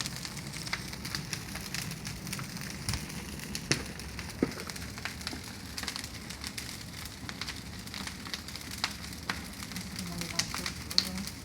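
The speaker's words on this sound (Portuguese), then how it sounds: "Isso sim que é uma fogueira." Bonfire outdoors on a cold night at a country property, crackling with a steady low roar and scattered sharp pops, fairly faint and continuous throughout.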